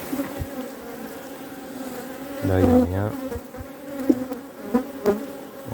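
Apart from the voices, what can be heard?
honey bees at an opened hive frame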